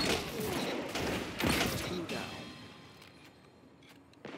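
Shotgun blasts in Destiny 2 player-versus-player combat, with several loud, dense bursts in quick succession early on, then decaying into softer game noise and a short thump at the end.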